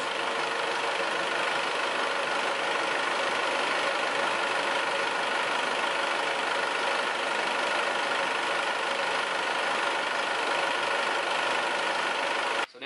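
Isuzu MU-X/D-Max 4WD diesel engine idling after its first startup following a service, a steady, loud, even drone held close for the whole stretch, cutting off abruptly at the very end.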